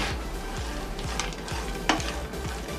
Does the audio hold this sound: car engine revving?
no